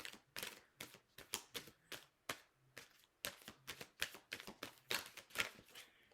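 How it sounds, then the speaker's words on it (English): A deck of tarot cards is shuffled close up, giving rapid, crisp riffling bursts in quick succession with short gaps, quiet and steady with no talking. "So one more shuffle"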